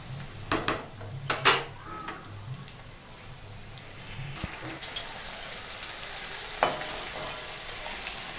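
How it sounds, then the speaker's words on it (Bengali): Paneer frying in hot oil gives a steady, close sizzling hiss, opened by a few sharp clinks of a utensil against the pan near the start. "পনির কিন্তু ভাজা হয়ে গেছে, তো এই পনিরগুলো তুলে নেব, আর যা বাদ বাকি পনির আছে ওগুলো ভেজে নেব"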